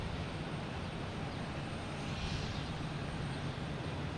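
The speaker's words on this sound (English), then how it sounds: "We have a JetBlue coming in from Tampa. And we have a Delta taking off going to Tampa." A Delta Boeing 737 taking off and a JetBlue A320 arriving at Boston Logan: a constant, fairly distant jet engine rumble holds evenly throughout, with no talk.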